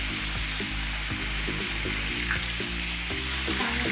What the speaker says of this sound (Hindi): इसको फिर फ्राई करना है।